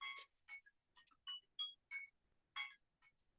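A quiet electronic timer chimes in a run of short, evenly spaced high beeps, faint and alone.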